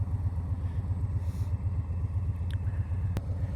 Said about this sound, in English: I'm on my 2020 lowrider